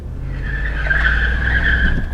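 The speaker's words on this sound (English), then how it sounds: "Oh yeah, and it can still do burnouts." A car doing a burnout gives a sustained, loud tire squeal over a rumbling engine, steady and close for the whole stretch without talk.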